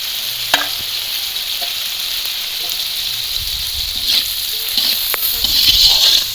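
Onions sizzling and frying in a pan after salt is added, a steady hiss with occasional stirring scrapes and clinks, cooked outdoors at a winter picnic.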